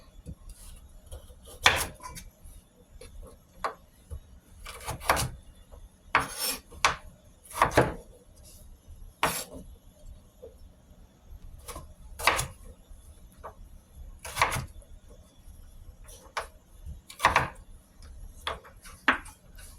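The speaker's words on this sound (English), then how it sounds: "So now I will be cutting some of my veggies in cubes." Pumpkin and carrots being cut into cubes for Jamaican chicken soup: sharp, scattered knife strikes on a board, some clustered and some spaced apart, close and crisp against a quiet kitchen background.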